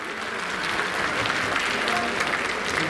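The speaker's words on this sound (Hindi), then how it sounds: "आप सभी की जोरदार तालियां चाहिए इस शुभ और विशेष अवसर के लिए।" Steady, dense applause from an audience at the Gorakhpur festival, continuous clapping filling the whole stretch at moderate distance.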